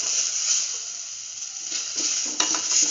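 Tomato paste being stirred into a sizzling coconut stew with scrambled egg in a pot: a steady close hiss of frying, with soft scraping stir strokes growing more frequent toward the end.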